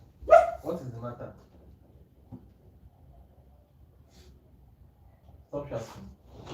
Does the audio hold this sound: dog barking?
yes